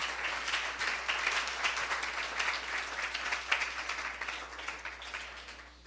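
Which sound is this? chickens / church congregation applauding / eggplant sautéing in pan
church congregation applauding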